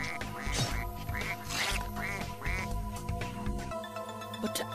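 A goose honks repeatedly in a barn in an animated children's moral story, giving a rapid series of nasal, quacking calls over a continuous music bed, fairly loud and close.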